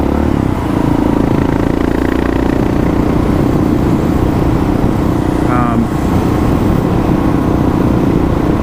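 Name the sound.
Kawasaki KLR650 motorcycle engine running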